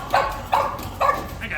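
Several dogs give short barks and yips, three or four close bursts spaced about half a second apart, with people talking around them at an amusement park.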